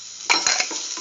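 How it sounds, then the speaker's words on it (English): Onion pieces with salt being sautéed in oil in a pan, a brief burst of sizzling with a couple of clanks from a stirring spoon against the pan, close and fairly loud. "Keep on sauteing."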